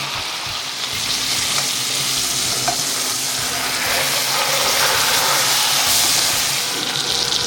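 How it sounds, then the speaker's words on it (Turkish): Steady, loud sizzling of chicken searing on both sides in a hot pan, a continuous crackle and hiss with no talking. "şimdi güzelce her iki tarafını da çıtır çıtır kızartacağız"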